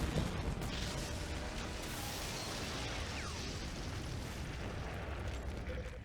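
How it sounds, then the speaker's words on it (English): A cannon explosion in a first-person shooter prototype game, a deep rumbling blast with a whooshing, air-sucking quality that rolls steadily through the whole stretch with no talk over it. "Cannon at the ready. It is really satisfying, that explosion, though."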